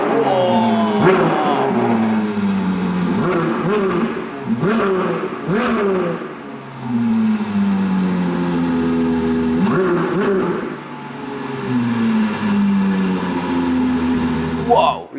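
A supercar engine revs hard several times in quick succession, each rise and fall close and loud, with people talking over and between the revs.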